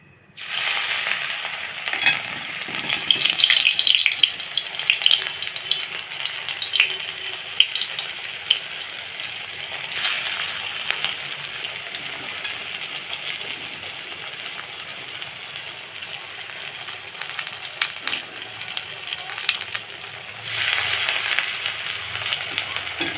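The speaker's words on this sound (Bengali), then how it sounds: "মেখে রাখা ফুল চিংড়িটা এখন ছোট ছোট বড়ার আকারে ভেজে নেব" Small shrimp fritters fry in hot white oil in a pan, producing a long, steady, rain-like crackling sizzle at moderate loudness with occasional louder bursts and faint stirring.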